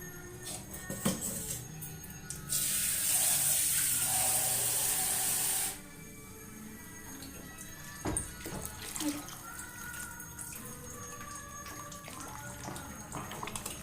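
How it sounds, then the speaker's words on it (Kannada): Water pours from a tap into a sambar pot in a home kitchen, a loud steady hiss lasting about three seconds, followed by quieter clinks and handling sounds. "ಇನ್ನು ಸ್ವಲ್ಪ ನೀರು ಬೇಕಾಗುತ್ತೆ ನೀರು ಹಾಕ್ತೀನಿ"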